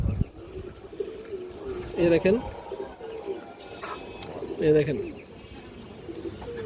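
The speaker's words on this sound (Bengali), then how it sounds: "পুরান জাতের একটা লাল চুল্লি মাদি কবুতর" A female red Chulli pigeon of the old Palla line coos in low rounded bursts around two and five seconds, close by, while someone talks over it.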